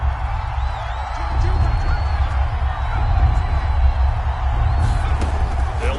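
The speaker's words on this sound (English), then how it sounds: "That just means this crowd's going to get even louder" Football stadium crowd at a Falcons game, a broad, steady roar that swells a little louder partway through, with voices carrying over the din.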